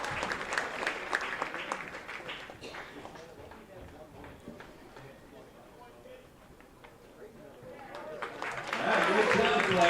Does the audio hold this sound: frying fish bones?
no